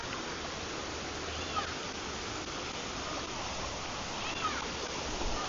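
Water rushing and splashing at a large resort swimming pool in the Dominican Republic, a steady, moderately distant wash of falling water that continues evenly throughout, with faint voices in the background.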